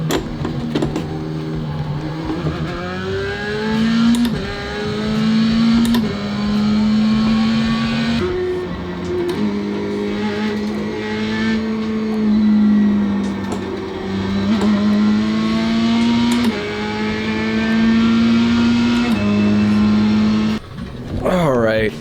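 Simulated Mazda MX-5 race car in iRacing revs up and down through repeated gear shifts, its engine note rising and dropping steadily and loudly throughout, with a person talking over it at times.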